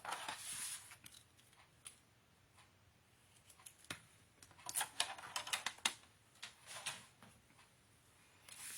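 A craft paper trimmer blade slicing a thin strip off scrapbooking paper for a large expandable folio: quiet, sparse scraping and clicking strokes, with a brief burst of sharper slides and snaps near the middle, close and alone.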